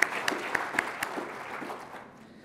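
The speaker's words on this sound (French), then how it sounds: "Des applaudissements pour eux." Applause for the winning school team, ISIT of Tanger, at the closing ceremony of the Africa Place Marketing Competition, moderately distant, with a few sharp claps early before fading out.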